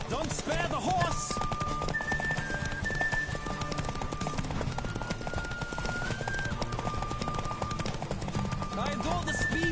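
A horse gallops in The Witcher 3 with steady, rapid hoofbeats under a layer of music and tones, while a voice speaks over the rhythm and a neigh surfaces briefly.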